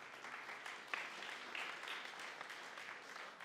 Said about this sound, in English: big applause for Omai.TV